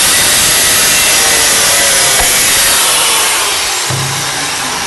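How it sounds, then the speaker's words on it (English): A saw cuts hard and loud through the two flange bolts of the exhaust silencer on a Range Rover P38, a continuous close grinding rasp that slows near the end of the cut. "I'm going to cut through the two bolts now"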